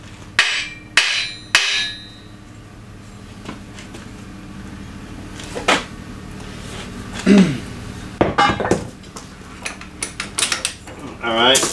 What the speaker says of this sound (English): we're going to go ahead and shock it a little bit here with a hammer